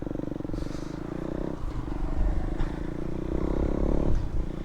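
A KTM Duke 390 V2 motorcycle hums steadily while riding, its engine drone rising and falling slightly under constant wind rush, with no talking.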